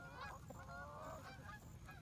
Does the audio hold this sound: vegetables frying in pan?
no